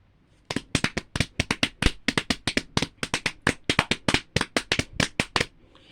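Fireworks going off at a show, a rapid series of sharp cracks and pops, roughly thirty bursts in quick irregular succession over several seconds, fairly close and loud, with no voices.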